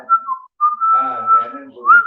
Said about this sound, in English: you just hear a tune coming from his lips as he whistles. It's the tune to Pirates of the Caribbean.